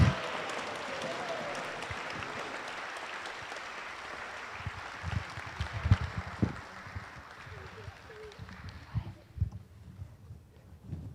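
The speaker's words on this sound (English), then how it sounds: "Can we get one more round of applause for our monsters as they march their way back?" A congregation claps for children in Halloween monster costumes as they march back, the applause moderate and steady before it fades out near the end, with footsteps and a voice speaking over it.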